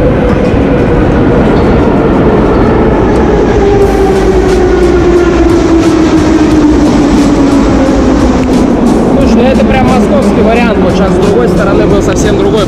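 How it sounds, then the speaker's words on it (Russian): A metro train pulls into a Tashkent station with a very loud, close roar and a steadily falling whine as it slows, with rattles and clicks near the end and voices faintly present. "сейчас поезд подъедет, смотрите."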